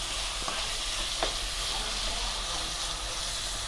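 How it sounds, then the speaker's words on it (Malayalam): Onion, capsicum and carrot stir-fry together in a hot pan for chicken sulaimani, a dense steady hiss with a couple of faint utensil clicks, no speech. "നമുക്ക് അതിൻ്റെ കൂടെ തന്നെ ക്യാപ്സിക്കും ക്യാരറ്റും ഇട്ട് കൊടുക്കാം. നമുക്കിത് നന്നായിട്ടൊന്ന് മിക്സ് ചെയ്ത് കൊടുക്കാം."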